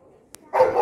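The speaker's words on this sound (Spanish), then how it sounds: "todos los perros son ladradores" A single dog gives a short, close bark that starts abruptly after a brief click and then holds for a moment, loud against a quiet background.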